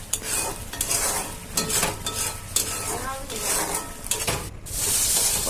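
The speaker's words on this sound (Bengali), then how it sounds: "জল দিয়ে দিলাম, এটাকে এখন আমি ভালো করে কষিয়ে নেব।" Spices sizzle and fry steadily in a pan for a fish curry while a spoon scrapes and stirs them, with clinks of utensil on metal throughout and no voice.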